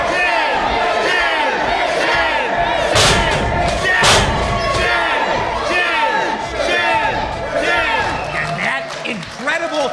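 An angry wrestling crowd in an Arizona arena loudly booing and jeering, with shouts, whistles and scattered thumps rising and falling over about ten seconds; voices of individual fans stand out in the din.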